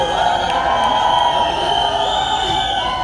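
Crowd cheering and shouting at the Deva trailer launch event, a steady, dense roar of voices with a few whoops rising above it, loud and sustained throughout.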